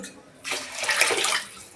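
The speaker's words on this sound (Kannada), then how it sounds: "ನಾನು ಇನ್ನೊಂದು ಗ್ಲಾಸ್ ನೀರು ಹಾಕೋತಾ ಇದ್ದೀನಿ" One more glass of water is tipped into a cooking pot for pongal, a short, close gush of splashing pouring lasting about a second, with no voices.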